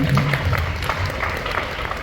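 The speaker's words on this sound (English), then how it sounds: "So a big round of applause for them." An audience applauds for a young dancer at a Malayalam dance recital, a steady, dense clapping wash that holds for the whole moment, with a few voices mixed in.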